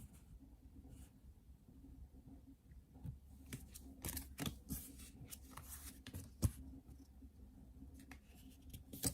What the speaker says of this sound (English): Lay out some cards.